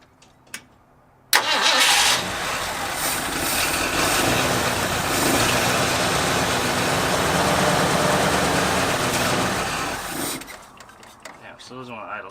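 An abandoned Ford Bronco left ten years in a storage lot cranks and catches, then idles loud and close, its engine running steadily for about nine seconds before cutting off.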